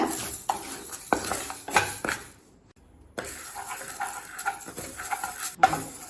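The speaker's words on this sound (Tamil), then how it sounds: "இப்போ இதை நல்லா வாசனை வர வரைக்கும் வறுத்துக்கலாம்" Moong dal dry roasting in a pan over low heat, a spoon scraping and rattling the lentils in intermittent strokes, with a brief quiet pause midway.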